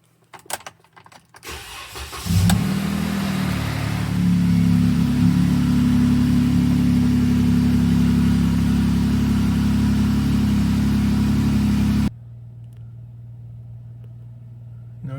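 A Jeep Wrangler engine cranks and catches after a couple of seconds, then settles into a steady, loud idle for about ten seconds before cutting off, leaving a quieter low hum.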